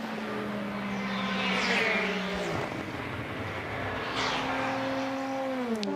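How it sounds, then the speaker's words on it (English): A Morgan race car with pink highlights in period livery approaches on the Silverstone circuit, its engine note rising and sweeping past amid steady track and crowd ambience, with another car's tone audible toward the end. "Coming towards us, another Morgan with the pink highlights"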